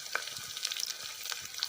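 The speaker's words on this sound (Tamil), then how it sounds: "கொஞ்ச நேரம் வதங்கட்டும்" Green chillies sautéing in a pan for vegetable curd rice give a steady, fairly quiet sizzle with faint crackles and small stirring scrapes and taps throughout, with no voices.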